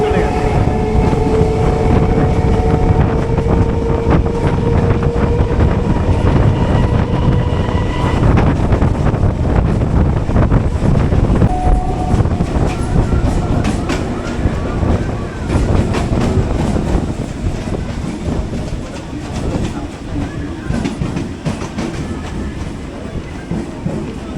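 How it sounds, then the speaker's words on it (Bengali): A local train runs out of Park Circus towards Ballygunge after leaving Sealdah, with loud rumbling and clattering wheels, rattling carriages and passing clanks heard from on board. "সিগন্যাল হয়ে গেল ট্রেন ছেড়েও দিল"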